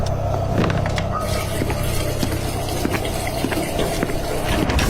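Water running steadily in a bathroom, a continuous splashing, gurgling wash with scattered sharp drips and knocks, fairly close and constant throughout.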